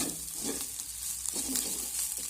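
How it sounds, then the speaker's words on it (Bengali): Chopped vegetables, egg, spices and coriander leaves being stirred together in a bowl give quiet, soft scraping strokes at a loose rhythm, with no talking. "এখন আমি সব কিছু ভালো করে মিশিয়ে নেব"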